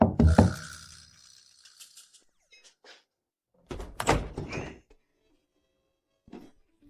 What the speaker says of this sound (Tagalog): bakit ang tagal mong buksan ang pinto?